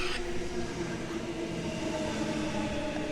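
A Sydney Trains electric train rolling through Petersham station, a steady close rumble and hum with faint wheel noise, no voices.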